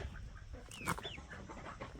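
Chickens near a coop give soft, scattered clucks and a couple of brief squawks, heard faintly against a low outdoor background.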